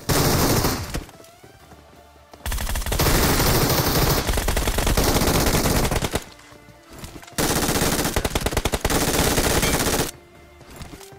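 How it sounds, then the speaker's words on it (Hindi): Automatic gunfire rips through a PUBG Mobile match in loud, sustained bursts, with several long volleys separated by short quiet gaps and a final brief burst at the end. "ਤੁਸੀਂ ਗੰਨਾਂ ਦੀ ਆਵਾਜ਼ ਸੁਣਨੀ ਹੈ"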